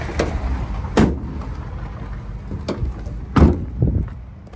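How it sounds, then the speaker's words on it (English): Sliding doors on a 2021 Peugeot Partner Crewvan van, giving several sharp thuds and rolling clunks spaced a second or two apart, close and fairly loud with no talk. "Twin sliding doors"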